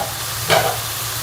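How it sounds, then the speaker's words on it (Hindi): Masala with coriander and chilli powder fries in a pan for a Punjabi chicken dish, a steady close sizzle with one brief stir-like swell in the middle and no voices. "मसाले को जो है वो अच्छी तरह से भून लेंगे"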